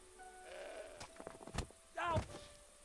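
A goat in the video game Broken Sword 5 bleats loudly twice amid faint game sounds, with short wavering cries close up.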